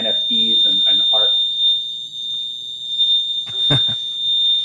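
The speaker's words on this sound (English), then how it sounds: "that fire alarm wants to bring back NFTs for sure" A fire alarm sounds a steady, piercing high electronic tone throughout, loud and continuous, while people talk over it and a brief clatter interrupts midway.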